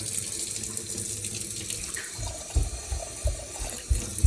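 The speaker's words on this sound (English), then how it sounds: "I'm going to head to the sink and grab just a splash of water" A kitchen sink tap runs cold water while baking biscuits, a steady close rushing stream with low splashing bursts toward the end as water hits the basin, no talk.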